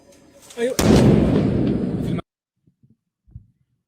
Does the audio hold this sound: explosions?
yes